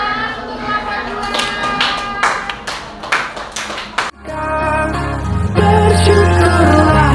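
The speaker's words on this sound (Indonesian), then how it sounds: "Tepuk tangan untuk kelompok 2" Classroom group clapping for the second student group after a presentation, a dense patter of hand claps over the first four seconds before the sound gives way to music.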